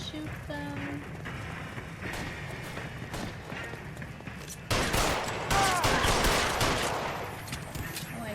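Gunfire in the video game L.A. Noire, a dense burst of rapid shots starting partway through and continuing for several seconds over background game sounds, with voices faintly present.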